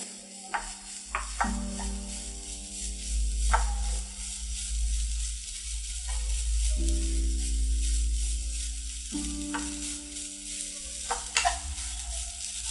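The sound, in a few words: coconut being roasted in a kadai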